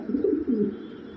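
Black Lahori pigeon, a young male, cooing up close with two soft, low rolling coos in quick succession.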